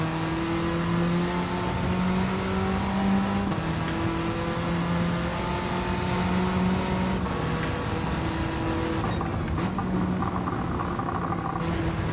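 A racing car's engine drones and revs in Gran Turismo 7 during online lobby racing, with steady mid-level tone shifting at gear changes every few seconds, sustained throughout without talk.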